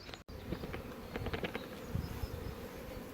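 Honeybees from Russian hives buzz close and steadily, with individual bees whining past over a dense outdoor hum.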